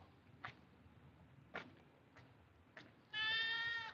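Goats bleating on a farm: a few soft clicks and shuffles, then one loud, drawn-out bleat close by at the end.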